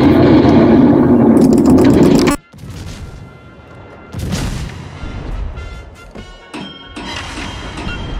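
Warship guns fire in a World of Warships clan battle: a loud heavy booming barrage cuts off abruptly, followed by scattered distant blasts, mechanical clanks and crackling impacts over a low rumble.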